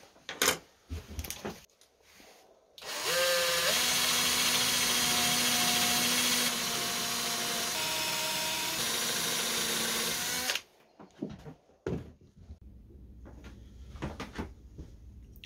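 A power drill boring 5 mm holes into wood for a tool organiser: a loud, steady motor whine that holds for about seven seconds, with a shift in pitch partway through, and soft handling clicks and knocks before and after.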